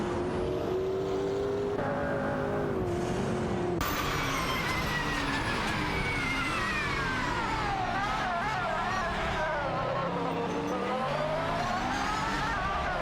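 Supercars including a Lamborghini Aventador SVJ and a McLaren 720S race on a track in a racing video game, engines revving and shifting loudly throughout, with tire squeal and a sharp jump in pitch partway through.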